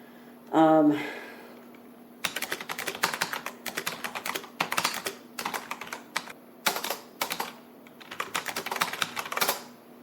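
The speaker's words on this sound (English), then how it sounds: "You should see me trying to type with my Bluetooth keyboards on my iPhones as well." Quick bursts of key clicks come from a Bluetooth keyboard typing into an iPhone, close and uneven in rhythm. A short vocal sound comes just before the typing starts.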